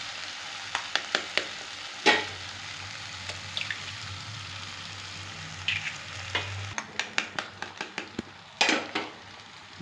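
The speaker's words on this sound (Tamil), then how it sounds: "இப்போ நம்ம முட்டையை உடச்சி ஊற்றிக்கிடுவோம்." Eggs cracked into a pan of mashed tomato for egg kothu parotta sizzle and fry steadily up close, with repeated sharp taps and clacks of a spatula or shells against the pan and no talk.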